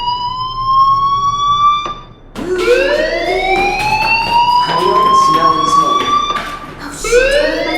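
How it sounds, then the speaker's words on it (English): A loud electronic fire alarm from the video game Life is Strange wails in rising, repeating sweeps, briefly cutting out before resuming, with a voice speaking beneath it. "Hey, do you hear that fire alarm?"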